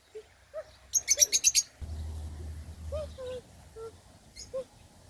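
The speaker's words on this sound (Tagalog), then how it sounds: "Lovebirds." Lovebirds chirp in a quick burst of bright, high tweets, followed by scattered single calls spaced over a low background rumble.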